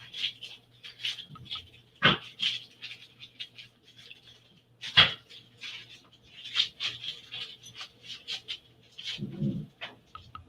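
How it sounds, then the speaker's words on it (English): A dog at a house window barks on and off at another dog outside, with sharp, fairly faint yaps and yelps spread out irregularly in a quiet indoor room. "So now he's going to go to the window and bark."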